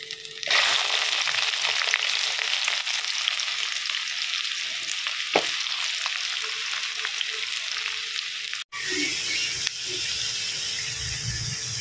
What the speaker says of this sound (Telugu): వెంటనే ఆనియన్స్ వేయాలి మనం ఇందులో మగ్గడానికి.